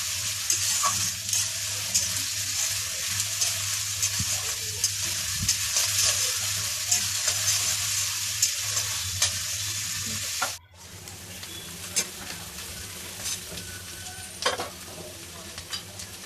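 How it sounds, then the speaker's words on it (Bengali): Onion paste frying in oil after chopped onion, a loud, close hiss and sizzle with rhythmic stirring scrapes, briefly cutting off before resuming a little quieter with occasional clinks. "পেঁয়াজ বাটাটা একটু ভাজা ভাজা হতে টাইম লাগে, সেই জন্য পেঁয়াজ কুচির পরে আমি পেঁয়াজ বাটাটা দিয়ে দিলাম।"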